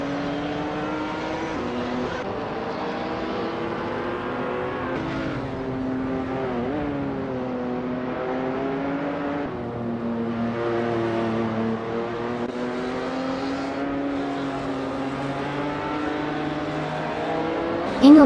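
Race cars in a racing game hold a continuous, loud engine drone whose pitch rises and dips with gear changes and acceleration, with no talking over the sound.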